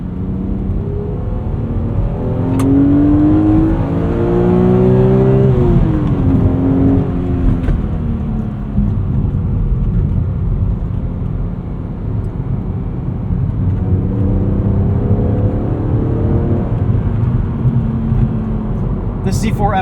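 A 2008 BMW Z4 M Coupe with the S54 straight-six engine pulls hard while driving. Loud, steady engine roar and rising revs carry on throughout, with rumbling road and cabin noise underneath.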